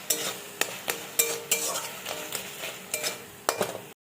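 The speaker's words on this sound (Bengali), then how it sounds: "আবারও নাড়িয়ে নেব।" Spices with salt and turmeric frying in a pan for a home cold remedy, with close rhythmic scraping stirs over a continuous sizzle, then cut off abruptly.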